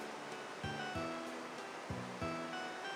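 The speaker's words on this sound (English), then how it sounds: "Another waterfall." A waterfall in the video game Etrian Odyssey 3 gives a continuous soft rushing wash, with repeated melodic game tones over it.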